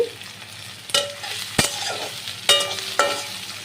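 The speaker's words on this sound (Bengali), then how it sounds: "পেঁয়াজটা আমি ভালো করে ভাজা করে নিয়েছি" Chopped onion with ginger paste and chilli frying in a pan, a steady close sizzle broken by four sharp scraping stirs of a spatula, with no voices.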